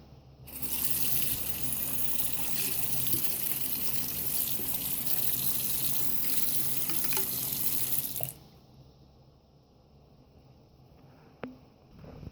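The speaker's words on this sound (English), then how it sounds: "if the ice is too big, just run it underneath some hot water" A tap runs hard for about eight seconds, water gushing over ice into a sink, then shuts off, leaving a quiet room with a brief knock.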